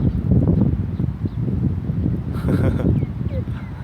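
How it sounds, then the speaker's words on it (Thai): Strong wind at a scenic viewpoint, a loud, continuous low roar buffeting the microphone throughout, with faint rustling on top and no clear speech. "โอ้โหลมแรงมากครับ"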